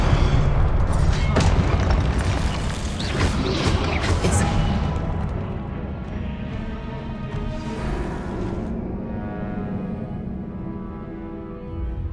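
Spell blasts and explosions in the video game Hogwarts Legacy set off several deep booms and crashes at the start, then fade into a lower, rumbling game soundscape that continues to the end.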